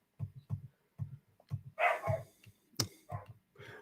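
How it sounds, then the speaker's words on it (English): A dog barks in quick, short yaps, about a dozen in irregular bursts, fairly close but not loud, with a brief whine mixed in near the middle. "There's the dog."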